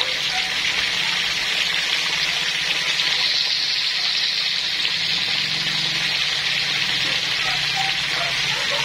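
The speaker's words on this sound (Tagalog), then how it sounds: "Ayan ang ating piniprito." Fish frying in a pan for escabeche, a steady loud sizzle and crackle of hot oil running continuously with no talk.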